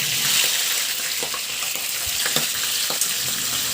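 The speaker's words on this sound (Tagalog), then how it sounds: "At iprito ko na yung bangus na inasinan ko na rin yan." Salted milkfish (bangus) frying in hot oil in a pan, a continuous close sizzle with scattered pops and crackles, no voices.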